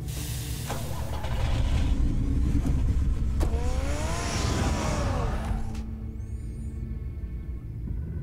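Batmobile engine in a Batman video game, a steady loud rumbling drive with a revving rise midway and a sweeping tonal whoosh layered over the low engine drone.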